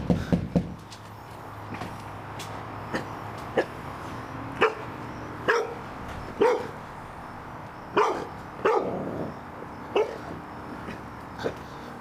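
Several dogs bark in short, separate bursts at an irregular pace, some close and loud and others farther off, while low background noise runs underneath.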